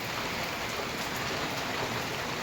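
Steady, heavy rain pours down continuously, a dense even hiss with no voices or pauses.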